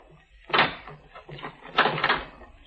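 A door being handled and locked as a radio drama sound effect, with two close, clattering bursts about a second apart, some quiet knocking in between, and no talk.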